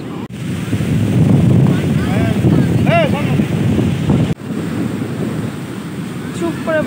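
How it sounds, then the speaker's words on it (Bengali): Ocean waves roar continuously on Puri beach, a loud, broad wash of surf mixed with heavy wind buffeting, and a few faint distant voices. "চুপ করে বসে মনে হয় যেন এই ঢেউয়ের গর্জন শুনি আর একে দেখতেই থাকি"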